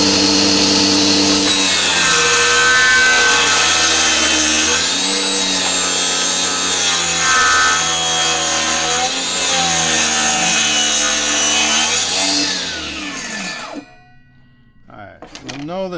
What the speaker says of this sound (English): So let's get that cut off there.